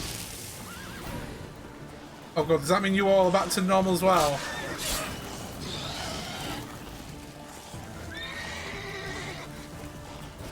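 A horse whinnies and neighs in The Witcher 3: Wild Hunt, loud harmonic calls rising in bursts with fainter whinnies later, over game ambience and someone talking.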